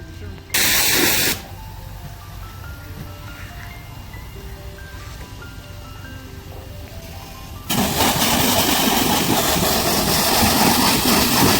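A loud broadband hiss of a pressure spray at a car wash in freezing weather bursts briefly, drops to a quieter background, then returns strong and steady for several seconds.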